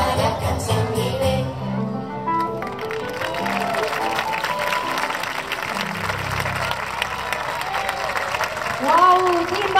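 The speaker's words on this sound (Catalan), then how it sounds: "A veure aquest aplaudiment." Audience applause at a children's music show, a broad wash of clapping running the whole stretch over music with sung and spoken voices on top, swelling slightly near the end.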